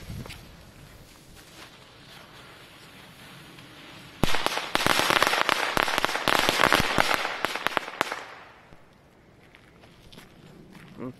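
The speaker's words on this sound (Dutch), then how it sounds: "zelfgemaakte rotjesmat met snel lont." A homemade mat of Dutch firecrackers with a fast fuse goes off: about four seconds of rapid, dense crackling bangs that erupts suddenly outdoors, then dies away to quiet.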